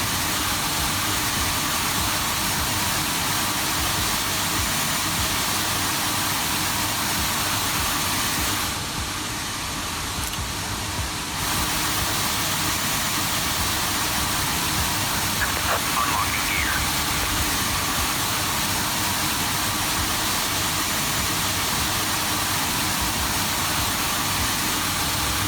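An Airbus A350 engine in a flight simulator runs at a steady, loud idle whine and roar for a long stretch, with a brief dip partway through and speech-like sounds over it.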